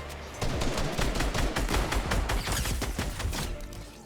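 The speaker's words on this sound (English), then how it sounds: "He pretty much let me kill him because he didn't hear me shooting" Rapid gunfire in Fortnite, a fast string of sharp shots in quick bursts, loud and close, running steadily for several seconds with no talk.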